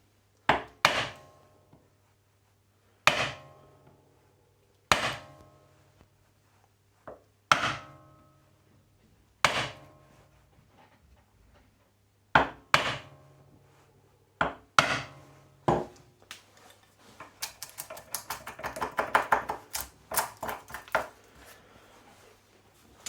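Sharp wooden knocks of a mallet striking a chisel, chopping a butt hinge recess in wood, single blows spaced a few seconds apart, then a quicker flurry of lighter taps at the end.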